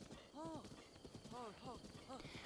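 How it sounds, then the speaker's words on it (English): A horse in Breath of the Wild trots with a quick, light clip-clop of hooves, joined by short tonal whinnies, over a brief stretch of quiet game ambience. "I'm gonna grab my horse though."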